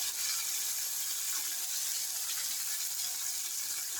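Batter fries in boiling oil, a constant, bright, hissing bubble at moderate level with no change in rhythm and no talking.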